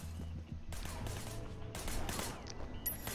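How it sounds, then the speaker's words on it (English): Video game shootout gunfire, bursts of rapid shots in clustered volleys over a continuous low game soundscape, fairly quiet overall. "Shooting at the guys over there."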